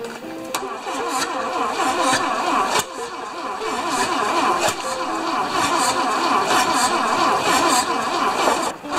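V4 Ford Saab engine on a wood splitter cranks and fires, then settles into a steady, loud, close-up running note with a rapid rhythmic chug and occasional sputter.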